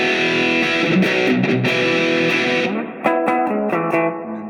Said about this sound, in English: And then they kick their distortion in for the power chord changes.